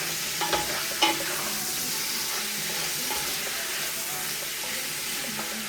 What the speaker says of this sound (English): Give it a bit of stir so it doesn't stick. I'm gonna fry this off.